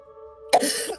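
A faint hum, then one abrupt, rough cough with a throaty rasp, close and fairly loud.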